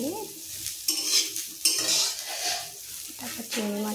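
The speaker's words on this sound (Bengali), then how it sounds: "এই যে ফুলকপি ভাজা হয়ে গেছে পুরো লাল লাল করে, এবার নামিয়ে নেবো" A spatula stirs reddish-fried cauliflower florets in a pan of hot oil, giving repeated scraping strokes and clinks over a soft, continuous sizzle, close and fairly loud, with no voices.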